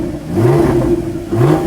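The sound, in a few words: Porsche Cayman GT4 engine revving with new exhaust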